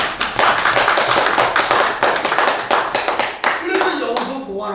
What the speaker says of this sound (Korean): 박수 한번 더 치고.